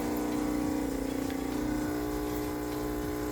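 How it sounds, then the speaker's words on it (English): A DeLonghi 15 bar espresso machine starts to brew, its pump droning in a steady, loud buzzing hum with a faint watery trickle beneath, continuous and close with no talking. "and it will start brewing the coffee and pouring down."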